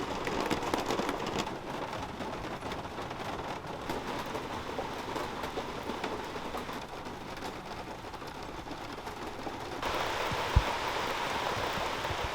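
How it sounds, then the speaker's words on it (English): Heavy spring rain drums on the roof of a tiny home in the woods, a steady, dense wash of patter close overhead, with one sharp knock near the end. "I just love the sound of the rain on the roof in"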